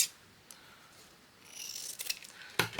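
Scissors snip through soft fabric in a craft room, a few quiet separate cuts at first and then a closer run of crisp slicing and a sharp final snip, with no voice.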